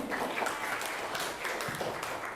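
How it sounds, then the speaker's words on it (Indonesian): A classroom group claps together, a dense spread of hand claps with brief swells, moderately close and steady for a couple of seconds without talk. "tepuk tangan semuanya."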